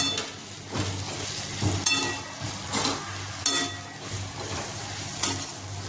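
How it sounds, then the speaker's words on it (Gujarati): Leftover roti pieces get stirred through masala in a frying pan, with a soft sizzle underneath and a steady rhythm of scraping strokes about once a second, close and with no voices. "હવે આપણે જે આ રોટલીના ટુકડા કર્યા છે તે લઈ લઈશું અને બરાબર મિક્સ કરી લઈશું"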